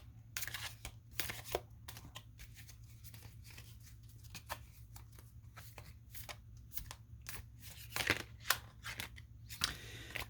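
Tarot cards shuffled by hand in quick, irregular riffling bursts, close and soft, over a low steady hum.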